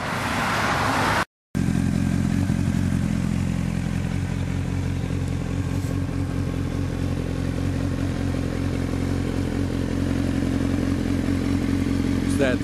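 A black 2005 Honda CBR1000RR sport bike with an aftermarket exhaust runs at a strong, steady idle throughout after a brief cut near the start, loud and close with a faint mechanical clatter.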